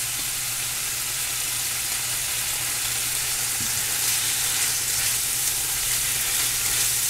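Vegetables for fajitas frying in a pan, a dense continuous sizzle close by with a low steady hum underneath and no talking.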